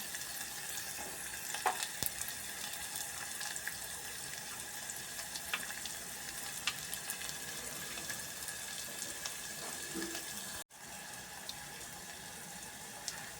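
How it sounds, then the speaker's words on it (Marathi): Onion fries in a pan for a fresh pea vegetable dish, a continuous soft sizzle and crackle with occasional faint stirring scrapes, quiet and steady, with no voices. "कांदा भाजून घेणे"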